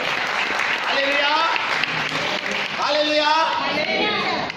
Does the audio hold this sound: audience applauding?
yes